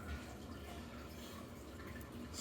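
Water from a small pump trickles continuously into a Lego fish pond set with rocks, a soft, steady, faint flow and dripping with no voices.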